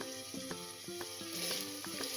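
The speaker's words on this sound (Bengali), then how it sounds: "পেস্টটা দিয়ে আমরা এটা পেঁয়াজটাকেও ভাজা ভাজা করে নেবো যতক্ষণ না পেঁয়াজের কাঁচা গন্ধটা চলে যায়।" Onions frying with spice paste in a pan, a soft steady sizzle broken by regular scraping stirs of a spatula, close and quiet.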